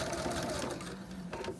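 A sewing machine back-stitches over elastic on a fabric pencil holder, its needle chattering in a rapid, steady burst up close, briefly easing before picking up again.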